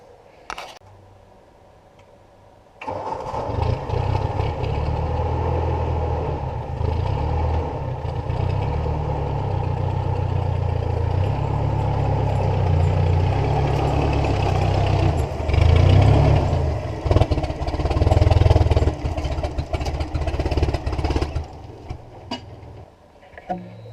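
A 1954 Ford Golden Jubilee NAA tractor engine runs steadily as the tractor drives, a loud close rumbling drone that starts abruptly, holds for about twenty seconds with a rise near the end, then cuts off.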